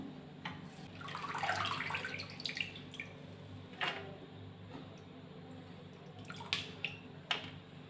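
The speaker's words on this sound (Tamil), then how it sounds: "ஃபஸ்ட்டு கொத்தமல்லியை நல்லா தண்ணியில் வாஷ் பண்ணிக்கோங்க" Coriander leaves are washed in water by hand, with soft sloshing and splashing and a few scattered drips and clinks, faint and close.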